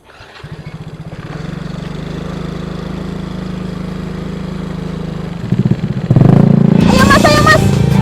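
A motorcycle engine starts up and idles with a steady, nearby putter, then revs louder near the end as excited voices rise over it.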